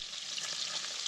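A tablespoon of olive oil hitting a hot pan with garlic and butter gives off a steady, bright sizzle, close and continuous for a moment, with no voices.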